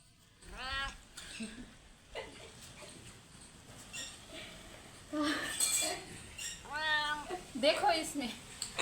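A village cat gives a few drawn-out meows close by, one near the start and a louder pair later, mixed with people talking around it.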